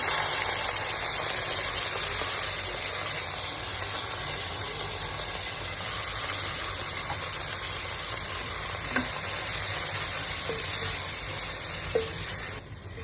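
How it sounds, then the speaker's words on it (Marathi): Finely chopped onions fry in a pan for chicken curry, a steady loud hissing sizzle throughout with occasional faint clicks of stirring near the end. "आता कांद्यांना चांगलं परतून घ्यावं गोल्डन ब्राऊन होईपर्यंत।"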